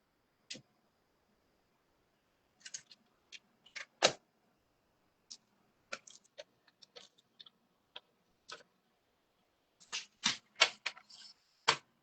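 Paper trimmer slicing and scoring cardstock on a desk, heard as sharp isolated clicks and snaps, some single and some in quick clusters, with silence between them. No talk.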